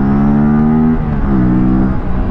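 An Aprilia RS 457 motorcycle engine pulls hard under acceleration, a loud, close, steady harmonic drone that rises in pitch and briefly shifts near the middle as it shifts or changes load, running continuously with no talking.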